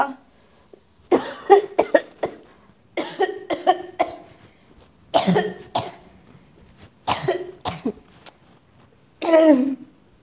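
A person indoors coughs in several harsh, close bursts with short quiet pauses between each group.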